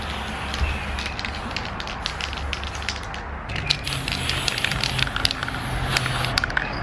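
Blue spray paint hissing steadily from an aerosol can onto a car interior, continuous and close with rattling and crackling underneath.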